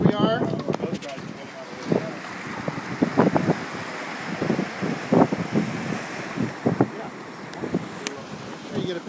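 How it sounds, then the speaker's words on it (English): Ocean swells break behind a sailboat at sea under strong wind buffeting the microphone, with a steady rushing wash and surges while people talk over it. "You get a picture of those waves breaking behind us."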